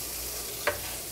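Nuts stirred in a hot pan give a soft, steady sizzle under a constant hiss, broken by one brief scrape of the utensil midway.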